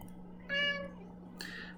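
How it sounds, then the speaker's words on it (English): A house cat gives a short, clear meow nearby, followed by a softer second vocal sound against a low steady room hum. "Oh, that's my next cat."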